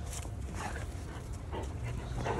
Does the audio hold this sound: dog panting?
yes